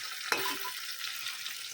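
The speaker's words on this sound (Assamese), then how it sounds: "একদম মৰমৰীয়াকৈ ভাজিম এইখিনি এতিয়া।" Spiced brinjal slices frying crisply in hot oil fill the air with a steady, bright sizzle, broken near the start by one sharp clink of a utensil against the pan.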